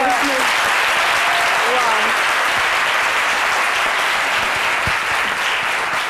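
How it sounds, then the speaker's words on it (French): Loud, sustained audience applause from a French-language event crowd fills the room, dense and steady throughout, with faint voices mixed underneath. "On applaudit très fort."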